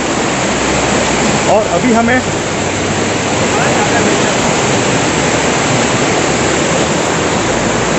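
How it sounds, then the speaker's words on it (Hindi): A fast-flowing jungle stream on a trek rushes loudly and constantly up close, with a voice speaking briefly over the roar. "पानी का बहाव बहुत तेज है"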